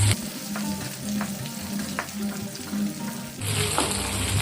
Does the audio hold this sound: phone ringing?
no